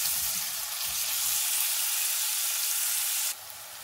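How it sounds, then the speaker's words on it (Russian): Onions sizzle steadily as they fry in lard in a pan, a dense, close hiss that carries on without a break and drops slightly in level near the end. "Лук жареный на сале"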